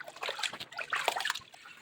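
Rice for idli is swished and rinsed by hand in water, giving faint, close trickling and sloshing splashes in short bursts.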